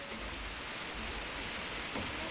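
Rain from a typhoon passing over a rural area of Laos falls as a steady, faint, broadband hiss that continues evenly throughout.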